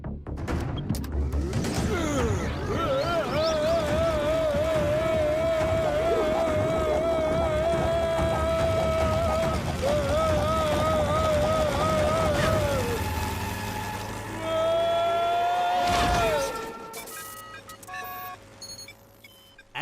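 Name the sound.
jet engine started in a cartoon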